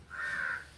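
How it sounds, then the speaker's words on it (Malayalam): A single harsh crow caw rings out from a flock of crows gathered outdoors. It is brief and moderately near, with no talking. "കാക്ക കൂട്ടങ്ങൾ വന്നിട്ടുണ്ട്."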